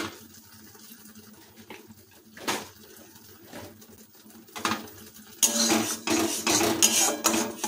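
Rohu fish curry masala paste is stirred in a kadai, Odisha style, with scattered spatula scrapes and clinks at first. A louder, dense sizzle follows once the paste hits the hot oil.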